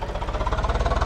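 Tractor engine in the video game Farming Simulator 22, pulling a loaded trailer, a loud, close, steady rhythmic chugging thrum with even pulses throughout and no talking.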